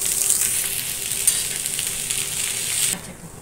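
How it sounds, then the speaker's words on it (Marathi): Schezwan Maggi noodles are mixed in a sizzling pan for a frankie filling, with a loud frying hiss and soft stirring scrapes that fade out at the end. "आता आपण जी शेजवान मॅगी बनवलेली आहे ना मी, ती आता आपण घालून घेऊया। आता आपण सगळ्यांना मिक्स करून घेऊ।"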